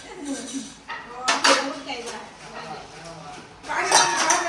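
Pani puri pots, pans and cutlery clatter and clink in bursts while being washed, with steady conversation running over the metallic knocks and scrapes.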